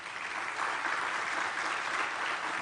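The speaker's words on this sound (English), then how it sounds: "Give yourselves another hand of applause." Steady, dense applause from graduates filling a Mandela University autumn graduation ceremony for the Faculty of Humanities on the Gqeberha campus, loud and unbroken from start to finish without any voices.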